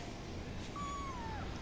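A single faint, drawn-out cat meow rises and slowly falls in a quiet room.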